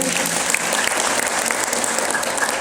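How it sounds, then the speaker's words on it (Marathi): Audience at a Buddhist gathering clapping loudly for an organisation, a dense, even burst of many hands applauding in a hall, sustained throughout with a faint voice underneath. "आपण या संबोधी संस्थेसाठी जोरदार टाळ्या वाजवा"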